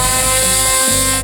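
A real saw mounted on a miniature car runs with a loud, steady, buzzing motor whine and dense harmonics, then cuts off abruptly just before the end.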